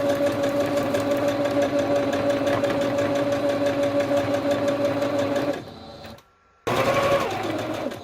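A sewing machine rapidly stitches collage fabric snippet strips in a steady, loud mechanical whir. It slows and briefly stops near the end, then starts again.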